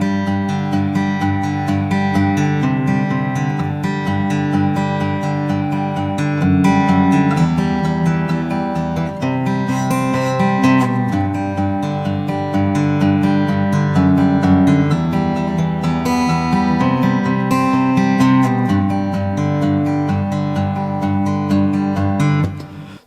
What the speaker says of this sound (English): This is a nice, easy finger-picking song.